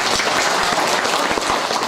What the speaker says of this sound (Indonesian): Tepuk tangan untuk PRM Logandeng.